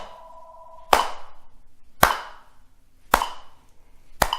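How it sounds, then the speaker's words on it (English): Single sharp hand claps land evenly about once a second, keeping time with a metronome at a slow 54 setting, each clap ringing briefly in a quiet room after a faint tone. "let's try clapping our hands"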